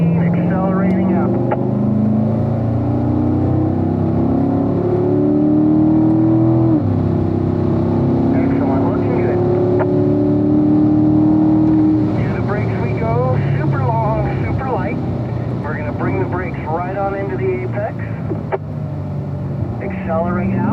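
A Chevrolet Corvette Stingray C7 Z51 accelerates on a race track, its engine rising steadily in pitch and then droning on, mostly under an instructor talking.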